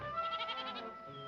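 A nanny goat up on a ranch roof in a Western lets out a brief, trembling bleat that wavers quickly for under a second and then fades, heard close with no talk.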